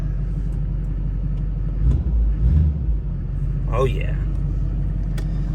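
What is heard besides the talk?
Duramax truck engine starting up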